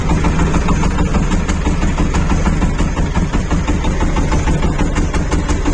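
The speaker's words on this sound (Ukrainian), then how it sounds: "Чудно якийсь звук появився, навіть що шумить дозатор." A Shifeng 244 tractor engine idles loudly and steadily nearby, a constant low mechanical rumble with a faint rattling whir from a newly fitted steering dispenser.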